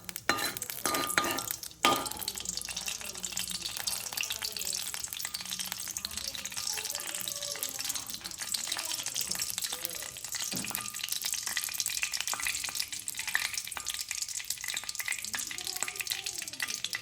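Coconut oil sizzles in a hot pan for tempering, a steady bright crackle and hiss, with a few clinks of utensils at the start.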